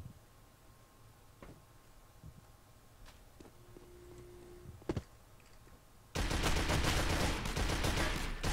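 Gunfire in the video game District 187: scattered faint clicks and a few sharp shots, then from about six seconds a loud, sustained burst of rapid automatic fire fills the rest of the clip.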